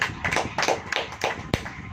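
A church congregation claps their hands during a Hindi-language sermon, a run of sharp, fairly close claps in an uneven, quick rhythm with faint murmuring underneath.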